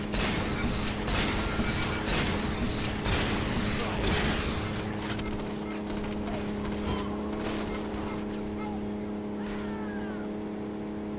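Rapid gunfire from a weapon that may be the XM grenade launcher, in Saints Row 2, heard as dense repeated bursts over a steady engine-like hum and game noise throughout.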